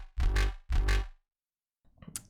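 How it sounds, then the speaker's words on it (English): Synth filler bass patch from a drum and bass tune plays two loud, thick, sustained notes in quick succession, then drops to silence before a faint, brief tail of sound. "There's this filler bass that I use here."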